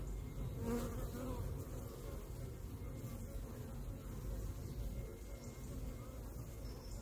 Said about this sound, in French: Il y a encore des faux bourdons, j'en vois là.